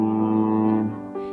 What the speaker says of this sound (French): résonne la corne de brume d'un bateau.